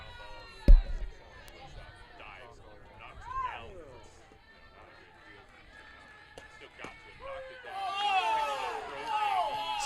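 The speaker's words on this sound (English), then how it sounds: "you can hear the reaction from the crowd" Crowd at a college softball game between Cornerstone and Indiana Tech reacts to a strike on the outside, a rising murmur of groans and voices late, following a sharp thump early and scattered crowd chatter.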